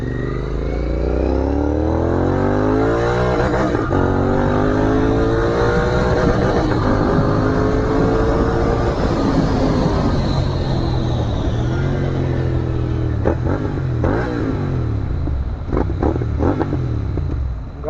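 A 650 motorcycle engine revving close by: a loud, throaty drone that climbs and falls through several rising revs, then settles toward a rougher idle near the end. No one speaks.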